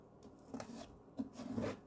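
Paste being scraped back across a raised stencil with a spreading tool in a decoupage layering project, two or three short, close rasping strokes with quiet gaps between, heard alone.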